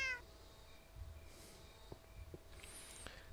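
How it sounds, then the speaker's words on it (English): A cat in the Minecraft Tekkit modpack meows a few times, short faint calls over a quiet game ambience with soft clicks, and no one speaks. "And I got myself a kitty cat."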